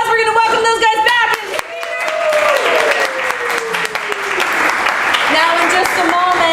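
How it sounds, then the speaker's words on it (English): An audience claps in a sustained burst of applause, loud and close, under a voice and tonal music throughout. "Give yourselves a round of applause."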